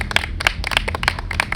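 Finalists of a competition show are applauded with quick, uneven hand clapping from a small group, close and brief, with no voices.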